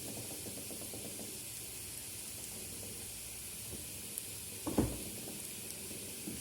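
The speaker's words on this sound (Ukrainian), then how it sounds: "Цибулька підрум'янилась, додаємо трохи моркви потертої." Onion and grated carrot fry in refined sunflower oil for a green borscht, giving a steady, soft sizzle throughout with a brief louder crackle near the end.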